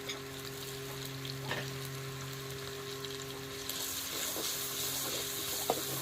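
Ginger garlic paste fries in hot oil for a spiny gourd curry, a steady close sizzle that grows a little brighter partway through, with a few light spoon taps and no speech.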